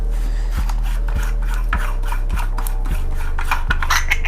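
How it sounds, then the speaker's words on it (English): Metal parts of a DF64 Gen 2 coffee grinder scrape and rasp during disassembly, with a steady low hum under a regular series of clicks roughly every half second, close and fairly loud. "I'm going to disassemble the grinder basically."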